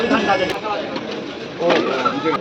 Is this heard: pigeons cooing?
yes